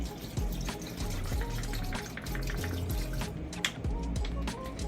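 Cold water poured into a container to cover lemons for lemonade, a continuous splashing, bubbling stream with scattered drips, moderately close and without talk.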